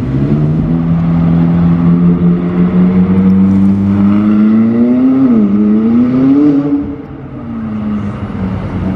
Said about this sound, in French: je vois déjà une McLaren qui arrive, 675 LT Spider